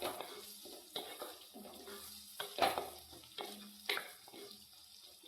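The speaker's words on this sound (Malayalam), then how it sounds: "ഉള്ളിയൊക്കെ ഏകദേശം ഒന്ന് വെന്ത് വരുന്നുണ്ട്. ചെറിയ തീ വെച്ച് വേണം ഇത് ചെയ്യാൻ." Onions sautéing in a pan over a low flame for an onion curry, with a soft, steady sizzle broken by several irregular scraping stir strokes and spatula clatter, close up and with no talking.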